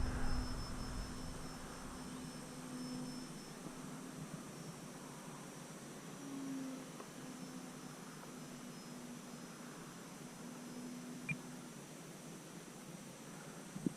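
An E-flite Valiant RC airplane flies at a flying field, its small engine giving a steady, faint, distant drone with a droning tone that holds throughout against wind-like background hiss.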